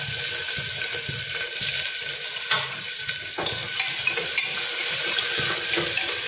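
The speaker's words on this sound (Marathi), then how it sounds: "तर चला आता आपलं तेल तापलेलं आहे। ह्यात आता आपण कांदा टाकायचा आहे आधी आणि कढीपत्ता।" Onion and curry leaves frying in hot oil in a pan, a steady close hiss and crackle with scattered sharp spits running continuously, no talking over it.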